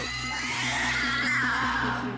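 Pigs with blistered backs scream in a Canadian animal testing lab, a continuous shrill squealing with strained harmonics running the whole short stretch at steady, close volume against low background hum.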